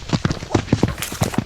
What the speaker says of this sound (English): I didn't see that that was a horse.